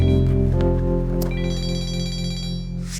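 A telephone rings in a scene from a romantic TV drama series, a steady electronic ringtone with sustained tonal layers lasting about three seconds, with no one speaking over it.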